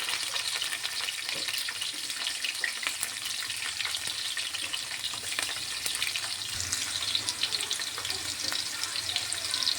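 Green chillies and onions fry in oil in a pan while cooking egg fried rice, giving a steady soft sizzle with light crackles and occasional stirring scrapes, with no talk.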